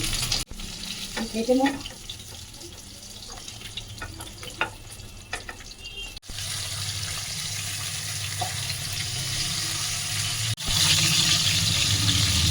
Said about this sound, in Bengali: মাছের মোড়োটা ভালো করে ভেজে নিচ্ছি।